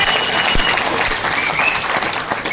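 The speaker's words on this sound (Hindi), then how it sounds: "तो जोरदार तालियां अपने आप को दीजिए।" Audience applause in a self-transformation seminar hall, a steady, dense wash of clapping from a large crowd sustained throughout, with faint voices mixed underneath.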